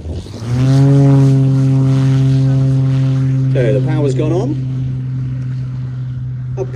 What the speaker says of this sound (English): we do have an extra 330 flown by Melanie Astles, as she shows us what high-performance aerobatic aircraft can actually do